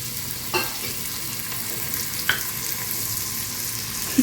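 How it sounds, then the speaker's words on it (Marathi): Onion frying in oil in a home kitchen for masala rice: a steady, even sizzle with a few soft clicks. No one speaks. "इथे मम्मीने कांदा टाकलाय तेलामध्ये"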